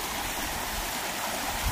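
A large waterfall pours in a steady, broad rush of water, a continuous hiss-like roar at even volume with no talk over it.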